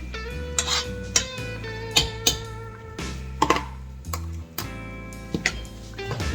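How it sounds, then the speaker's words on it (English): Utensil scraping and clinking against a pot or bowl while a pizza fries mixture is stirred in a home kitchen: a run of sharp, irregular metallic taps and knocks, fairly close, with soft music underneath. "Get that all stirred in."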